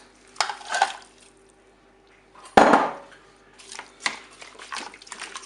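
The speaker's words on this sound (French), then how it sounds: "je vais rajouter les tomates" Tomatoes tipped into a Cookeo multicooker pot for a Basque-style roast, giving a couple of loud wet clattering thuds and a splashy slide against the metal pot, followed by lighter scraping and clinks, close by.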